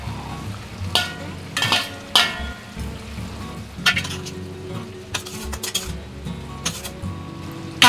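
Small mourola fish fry and sizzle in oil in a pan, a steady close crackle punctuated by sharp clinks and scrapes of a utensil against the cookware.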